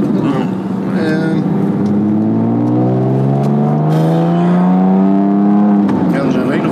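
A Porsche 911 Carrera S engine revs through an aftermarket exhaust, one long loud climbing rev that rises, holds and falls away close by.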